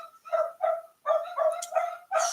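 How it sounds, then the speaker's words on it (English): Dogs barking in a series of short, sharp, mid-pitched barks, about six in quick bursts with brief pauses between, fairly close and alone without talk. "The dogs are barking."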